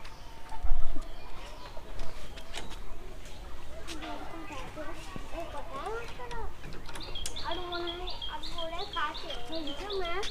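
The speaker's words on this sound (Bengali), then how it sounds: "আমরা কৃষ্ণনগর হাট থেকে টোটাল 5টা কবুতর নিয়ে এসেছিলাম" Pigeons newly bought at a market sit in a coop, giving soft coos and scattered chirps and calls that overlap at close range, with a few knocks and a background of what sounds like human voices.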